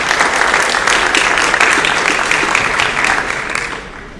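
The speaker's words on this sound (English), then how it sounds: "We give her a round of applause." Auditorium audience at a school athletics awards event applauding loudly and steadily, a dense wash of many hands that holds strong before thinning and fading near the end.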